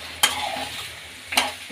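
Potatoes frying in oil are stirred with two sharp scraping strokes about a second apart, over a soft, steady sizzle.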